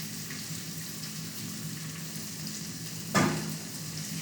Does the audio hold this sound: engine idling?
no